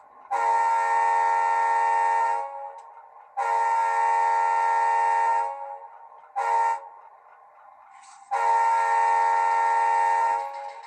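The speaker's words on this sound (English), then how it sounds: "Horn sound should be activated on F2." A loud, steady electronic horn from a Rapido Conrail C36-7 model locomotive with DCC sound blasts three long times with one short toot between, no other sound around it.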